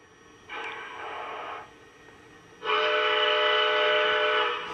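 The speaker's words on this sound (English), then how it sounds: "And then you got your whistle." Model Southern Pacific cab forward locomotive whistle sounding two blasts, a shorter one then a longer, louder one, close and bright with no talking.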